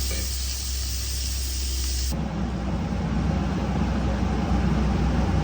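Chopped onion and carrot fry in a pan for samosa filling, a loud steady sizzle and hiss that thickens as fresh vegetables hit the hot oil.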